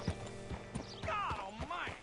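Horse hooves clip-clopping in the video game Red Dead Redemption 2, a few close steps under a man's speech.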